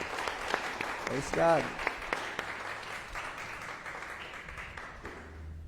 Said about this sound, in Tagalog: Palakpakan natin si Jesus.